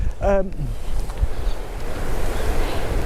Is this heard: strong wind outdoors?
yes